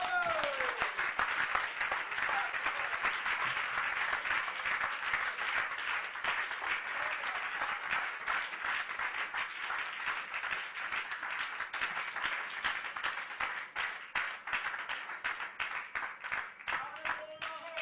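A church congregation at a French-language service claps and cheers for the Lord, sustained steady applause with rhythmic clapping filling the whole stretch, loud and close, with a few voices calling out.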